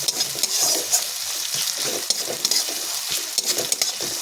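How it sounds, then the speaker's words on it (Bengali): Chopped onions frying in a pan while being stirred with a spoon, a steady bright sizzle carrying clicks and scrapes from the stirring, with no voices. "আবার একটু নাড়াচাড়া করে নিলাম।"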